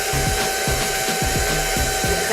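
Electric hand mixer whirring through pound cake batter, a close, steady motor hum with a rhythmic pulsing from the beaters knocking against the bowl, running for a couple of seconds.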